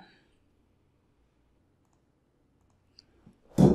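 A few faint computer mouse clicks in near silence, then one sharp, louder click close by at the very end.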